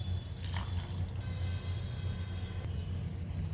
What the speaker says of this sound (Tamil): இப்போ இன்னும் கொஞ்சம் தண்ணி சேர்த்து இதை தோசை மாவு பக்குவத்துக்கு கரைச்சி எடுத்துக்கலாம்